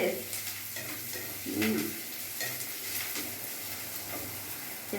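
Onions fry in a pan with a soft sizzle for a pabda fish curry, broken by a few stirring scrapes and a light clink of utensils, close and fairly quiet.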